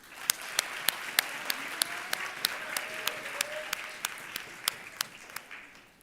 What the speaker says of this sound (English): Please help me in giving him a round of applause.